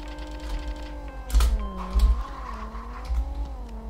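Mercedes-Benz C-Class DTM race car, tuned, in a drag race against a Corolla in the Racing Rivals game: a steady engine drone with rising revs and a few loud bursts as gears shift, close and alone.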